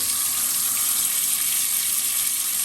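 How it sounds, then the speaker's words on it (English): Water forced through a clogged sprinkler head gives a steady, close, hissing rush of spray that runs without a break and has no voices over it. "So just push water through it."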